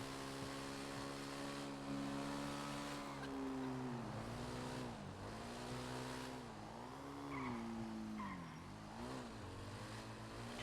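In GTA V, a car brakes with squealing tires over a steady engine drone. The pitch bends up and down as the car slows, and the sound stays continuous and fairly close throughout.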